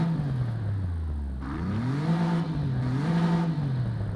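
A stock Audi RS5 engine in the racing game Forza Horizon 5 revs up and down in smooth waves, a steady mid-pitched drone rising and falling.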